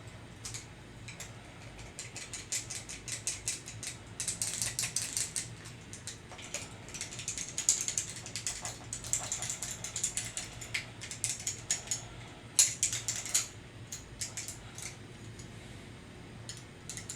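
A Marcel curling iron clicking repeatedly while styling short hair, with irregular bursts of sharp ratcheting clicks throughout, close and fairly quiet, and no talking.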